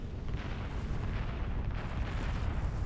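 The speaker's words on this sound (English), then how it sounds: "he's just bombing more metal extractors" Bombs exploding on metal extractors in the strategy game Beyond All Reason, a dense, continuous rumble of booming blasts at moderate loudness.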